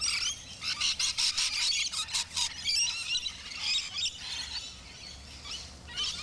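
Australian lorikeets at a feeding station, shrill squealing chirps and squawks in rapid bursts, several birds calling close and loud, no talking.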